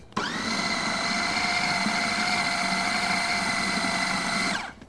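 A kitchen blender whirs steadily through a banana cinnamon ice cream mix, one continuous loud high-pitched whine that starts abruptly and cuts off just under five seconds later, with no talking.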